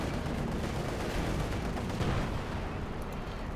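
Dense wartime gunfire in a Company of Heroes 2 battle between Wehrmacht and Soviet forces, a continuous loud wash of rifle and machine-gun fire with distant artillery thuds blending together, without pauses.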